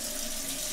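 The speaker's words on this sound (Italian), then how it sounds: "ci mettiamo un filino di acqua calda" Hot water runs steadily from a tap into a sink while preparing for a shave with a closed-comb double-edge razor, a continuous soft hiss throughout.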